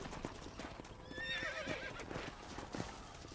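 A horse whinnies loudly over steady clip-clopping hooves, with a busy outdoor background, in the video game Red Dead Redemption.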